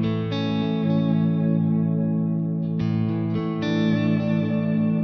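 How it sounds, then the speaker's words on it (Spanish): Sustained electric guitar chords played through a NUX MG30 multi-effects unit with reverb engaged, ringing full and steady with a few chord changes and a roomy, spacious tail. "Con la reverb."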